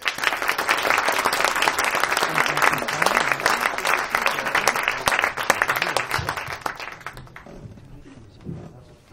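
A concert audience gives a youth jazz orchestra a dense round of applause that stays loud for several seconds, then fades out quickly, leaving a quiet hall with faint movement.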